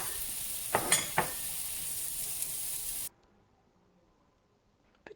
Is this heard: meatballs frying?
yes